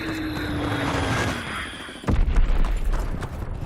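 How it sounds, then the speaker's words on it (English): An enemy bomb blasting in Call of Duty WWII multiplayer, a sudden heavy boom after a tense rising whine, followed by a rumbling, crackling aftermath. "Enemy bomb incoming. Get to cover."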